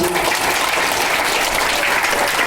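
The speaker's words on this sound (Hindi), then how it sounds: "इन सब के लिए एक बार जोरदार तालियां" An audience at an Aam Aadmi Party membership meeting in Suratgarh breaks into loud, dense applause that holds steady for a few seconds.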